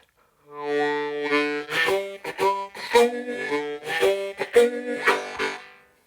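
A harmonica pumps a rhythmic chug, alternating inhaled and exhaled chords with sharp percussive breaks, played solo and close.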